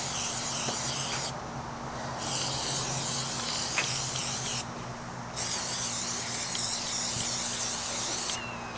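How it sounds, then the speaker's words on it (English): An aerosol spray can coats the emblems of a 2019 Mustang GT in close, loud hissing bursts, three long sprays separated by short pauses. "It's a spray."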